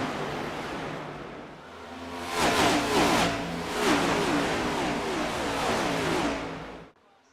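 Race car engines at Indianapolis in a racing video game roar together off the green-flag start, swelling into a loud revving pack with rising and falling pitch sweeps, then cutting off abruptly near the end.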